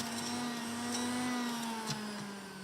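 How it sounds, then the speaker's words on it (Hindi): Electric mixer grinder running with pomegranate, carrot, beetroot, amla and spinach inside, a steady motor whine that holds a constant pitch for a few seconds, alone and fairly loud. "अनार, गाजर, चुकंदर, इसको मिक्सी में डाल करके, और इसमें आंवला भी साथ में डाल देते हैं, थोड़ा पालक भी डाल देते हैं"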